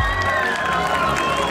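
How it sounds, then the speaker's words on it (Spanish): Crowd applause and cheering at a town-fair beauty pageant presenting queens in traditional dress, a steady, loud wash of clapping and shouts from a large outdoor audience. "El aplauso para la señorita Gaviotas."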